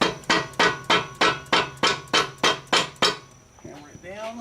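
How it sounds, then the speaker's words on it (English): Nine sharp metallic hammer strikes drive a greased pin into a thumb attachment on a Kubota machine, landing in a steady, even rhythm up close, followed by brief fumbling and a voice starting to speak. "Hammer it down and hammer it in."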